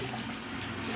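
A Consul Maré Super 10 kg washing machine filling with water: a steady, dense rushing of water flowing into the tub, loud and close, for about a second.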